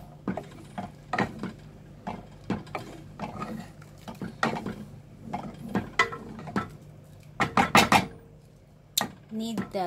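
Masoor dal being stirred in a cooking pot, a run of scraping, clacking strokes in uneven bursts, fairly close and moderate in level, with no one talking over it.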